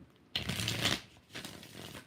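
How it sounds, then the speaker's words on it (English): Two quick riffles of tarot cards being shuffled, the first louder and crisper, the second softer, close by. "3 more shuffles."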